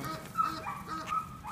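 A dog during a drive training session gives short whimpers, yips and soft whines in a broken rhythm, fairly close, with faint background noise between the cries.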